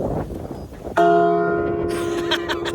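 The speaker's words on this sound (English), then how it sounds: "ring the Liberty Bell replica here in Gotha" A Liberty Bell replica at Woodlawn Cemetery in Gotha, Florida, struck once, ringing out loud and close with a long, humming metallic resonance that slowly fades.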